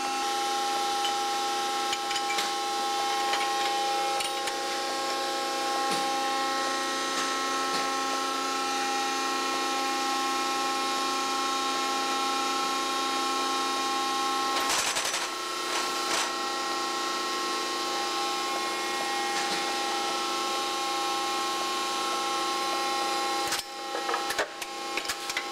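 Delphi shaft plastic injection molding machine running repeated cycles: a steady mechanical hum with tonal whine, broken by occasional clunks and clacks from the press, with a sharper burst of knocks near the end.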